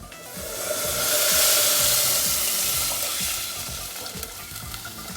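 Water pours into a hot pot with a rising, hissing sizzle that swells and then slowly settles, steady and close.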